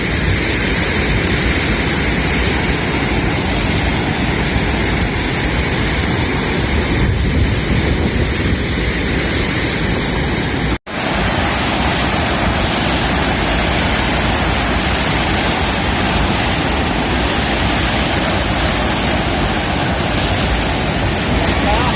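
Water pours continuously over the brim of the overflowing Ramdhari lake, a roaring waterfall-like rush that stays loud and constant throughout, with some wind buffeting mixed in.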